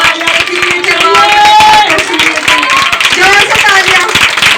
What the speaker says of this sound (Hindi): जोर से ताली बजाएंगे।